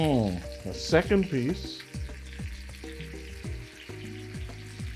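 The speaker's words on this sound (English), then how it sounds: "Oh, you hear that? That's what you want. You want that sizzle." Meat sizzles and fries in a hot pan with a steady crackling hiss, close and clear, while a person talks over it.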